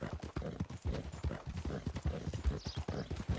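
Rapid, steady clip-clop of a horse's hooves in Red Dead Redemption 2 striking the ground, loud and close, in a continuous trotting rhythm.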